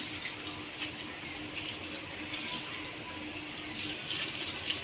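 Water pours steadily from close by into a pressure cooker holding vegetables on a home kitchen stove, a continuous gushing splash with no voices.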